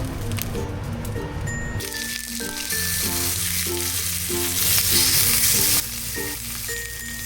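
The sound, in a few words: frying fried rice and sunny side up eggs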